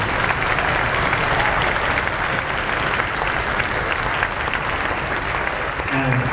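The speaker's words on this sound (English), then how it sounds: "can we just have a round of applause for all of our arts faculty across the district?" Audience applause for the district's arts faculty at a high school winter concert, a steady, dense wash of many hands clapping that holds evenly at full strength for the whole stretch.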